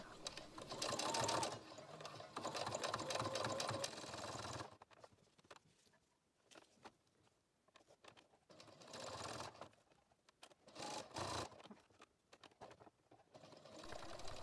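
A domestic sewing machine stitches a dog collar strap in several runs, a long steady whirring burst first, then shorter bursts separated by quiet pauses, all close and clear.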